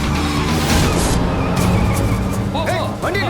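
A car races in a chase for a TV drama, engine roaring close and loud with tire noise, while people shout urgently over it.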